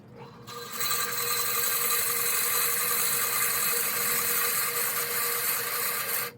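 A lathe bores into a wooden baby rattle with a Forstner bit, a loud, steady high-pitched whirring hum with a grinding edge that holds evenly for several seconds before cutting off.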